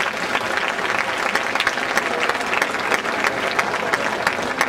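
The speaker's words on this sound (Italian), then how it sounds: "vi chiedo di fargli un applauso caloroso" Warm applause from an evening crowd in a town piazza after a sacred play performance, a dense, steady wash of many hands clapping throughout at fairly close range.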